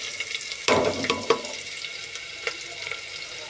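Onion pieces added to hot oil in a pressure cooker crackle and sizzle in a steady bright hiss, with a few louder spits and pops up close early on.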